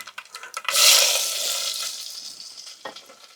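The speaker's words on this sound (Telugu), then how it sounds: "ఆయిల్ అయితే వేడెక్కింది ఇందులో ఆవాలు వేస్తున్నాను ఆవాలు జీలకర్ర కొద్దిగా జీలకర్ర వేసుకుంటున్నాను ఎర్రగడ్డ తెల్లగడ్డ ఈ తిరుమాదలు వేసుకుందాము" Mustard seeds, cumin, onion and garlic hit hot oil for a moringa leaf dal, bursting into a loud sizzle after a few clattering drops, then settling into a steady hiss with no talking.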